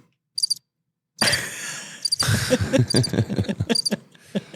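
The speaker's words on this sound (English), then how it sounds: "Where's the cricket noise?" Cricket chirping used as a sound effect, heard in short high-pitched bursts over a busy, noisy background with no speech.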